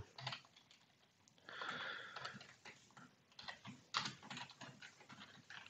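Keys tapped on a computer keyboard at a quiet desk, quick irregular clicks in short bursts with brief pauses, faint and close, no voices.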